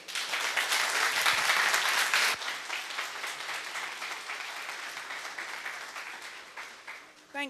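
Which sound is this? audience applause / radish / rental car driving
audience applause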